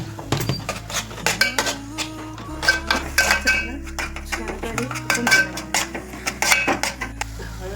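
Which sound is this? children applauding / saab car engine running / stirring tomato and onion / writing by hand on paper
stirring tomato and onion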